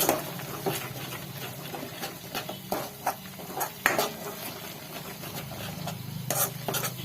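A spoon stirs red chili powder into a fish curry masala in a pan, giving close, irregular scraping taps over a soft background sizzle, with no voices.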